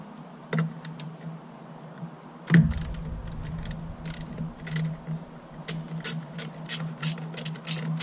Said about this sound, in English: Now you want to get you an 8mm socket, and in there there's two little bolts on each side.